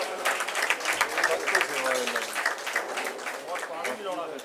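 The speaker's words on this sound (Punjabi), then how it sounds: "ਇਹਨਾਂ ਦਾ ਵੀ ਜ਼ੋਰਦਾਰ ਤਾੜੀਆਂ ਦੇ ਨਾਲ ਸਵਾਗਤ" An audience applauds to welcome honoured volunteers at a Bhagat Puran Singh Ji death-anniversary gathering, with a brief, moderate patter of clapping under and between a speaker's talk.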